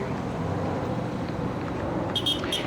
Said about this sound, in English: the sound of traffic here on 6th Avenue